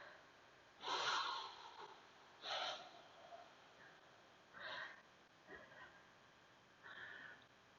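Close, quiet breaths during a yoga stretch: about five separate audible inhales and exhales, sniff-like and airy, spaced a second or two apart over near silence.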